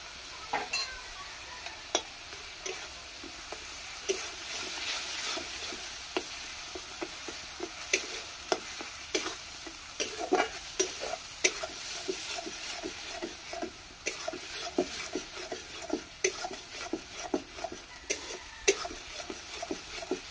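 Ginger garlic paste fries quietly in a pan while a spoon stirs it, giving a faint steady sizzle broken by frequent light scraping and tapping clicks, with no voices.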